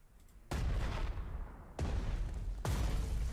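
Artillery fire in the Panzer Strategy war game for PC: three heavy, loud booming blasts arrive about a second apart, each followed by a sustained rumbling roar that fills the gaps, with no talking.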